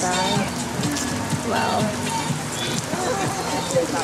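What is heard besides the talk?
heavy rain pouring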